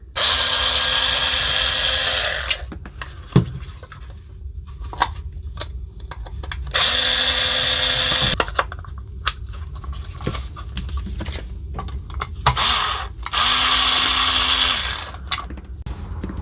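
A power driver backs screws out of a dead Milwaukee battery pack housing: three bursts of high whirring, each about two seconds, separated by quieter handling clatter and clicks.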